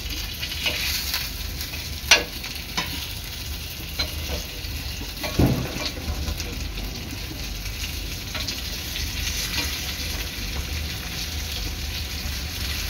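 Surmai (kingfish) pieces fry on a tawa with a steady, close sizzle throughout, broken by a few sharp clinks and scrapes of a utensil against the pan.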